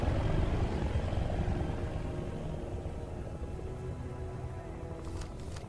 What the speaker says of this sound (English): Russian choppers, man, they shouldn't be here